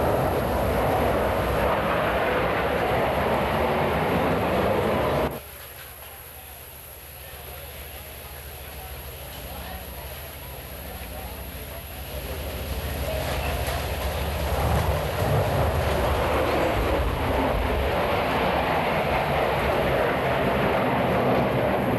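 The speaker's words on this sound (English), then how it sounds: "The diamond will pass before us and exit the flight line to the right." Diamond formation of jet aircraft passing at the 1987 Moffett Field airshow: a loud, steady roar that drops briefly, then swells again as the jets go by, with continuous broadband noise throughout.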